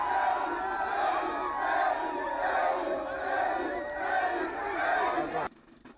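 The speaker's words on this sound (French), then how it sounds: "le président Alassane Ouattara va prendre un bain de foule avec des Ivoiriens résidant en Algérie présents à l'accueil" A large crowd of Ivorian expatriates in Algeria cheers and shouts loudly and continuously as President Alassane Ouattara arrives, the roar cutting off abruptly near the end.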